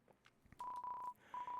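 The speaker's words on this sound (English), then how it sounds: "The phone is ringing, but you can't get it" A telephone rings in the Deltarune video game, giving a steady electronic tone in two bursts separated by a short gap, close and clear with no talking.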